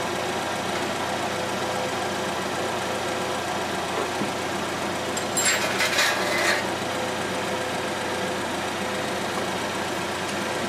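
A 2014 Chevrolet Equinox engine runs at a steady idle with about 30,000 miles on it, a constant close drone with vibration and a brief higher hiss midway.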